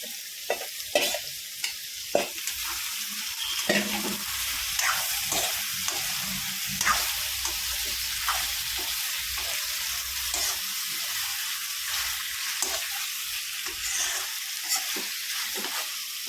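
Mutton liver frying in hot oil in a home kitchen, a steady loud sizzle running throughout with repeated scraping stirs of a spoon against the pan at irregular intervals.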